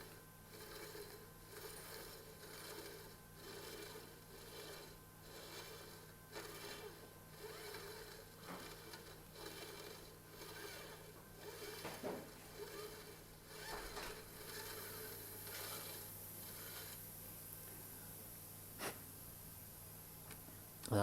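A steel scraper is rolled around a brass ring on a lathe while forming a radius during hand watch case making, giving a steady, faint rasping scrape with soft periodic pulses and a few sharp clicks.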